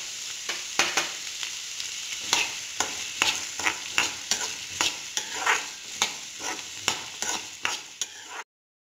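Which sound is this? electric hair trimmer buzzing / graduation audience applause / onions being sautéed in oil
onions being sautéed in oil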